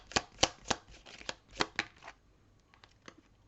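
Tarot cards shuffled and drawn: a run of sharp, crisp card flicks and riffles in an irregular rhythm, close and fairly quiet, thinning out into a few soft snaps near the end, with no voices.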